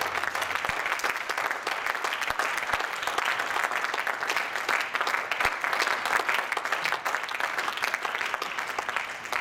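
Church congregation applauding in praise of the Lord during a French-language sermon, a steady wash of many hands clapping throughout, dense and sustained with no individual voices standing out.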